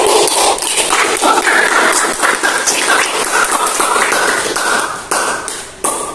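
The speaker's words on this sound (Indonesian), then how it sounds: "Beri tepuk tangan dulu untuk kali ini." Audience clapping at the end of a debate event, a dense spell of applause from a crowd that carries on for several seconds and then tapers off in uneven bursts.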